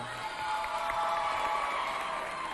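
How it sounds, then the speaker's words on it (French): A large audience at a youth cultural centre event applauds and cheers, a loud, continuous wash of clapping and shouting voices that swells after a brief quieter start. "Est-ce qu'on peut encore les applaudir bien fort, s'il vous plaît?"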